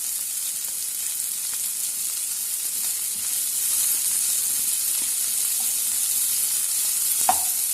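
Green chilies and curry leaves fry in hot oil for a Tamil potato bonda masala, giving a steady, close hiss and crackle throughout, with a brief louder pop near the end.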